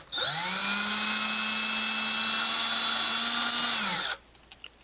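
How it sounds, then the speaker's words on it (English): A power drill fitted with a number 6 bit bores straight down into the plastic shell of a Nerf Elite FireStrike blaster, a loud steady whine rising at the start and holding for about four seconds before cutting off abruptly. "I'm going to take my drill with a number 6 bit, and we're going to make sure this is set the right direction"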